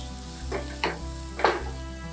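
Onion frying in a pan with curry leaves, a steady low sizzle with a few brief louder stirring bursts, close and without talk.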